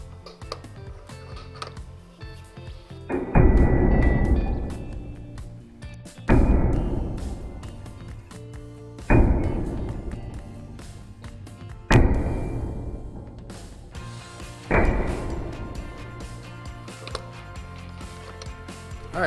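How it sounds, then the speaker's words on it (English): A Jason's Works Auto Punch works through a Morgan Dollar coin in five loud mechanical bursts spaced about three seconds apart, each a sharp strike followed by a fading grinding rattle. "this is the hole punch we're going to be using. This is a Jason's Works Auto Punch"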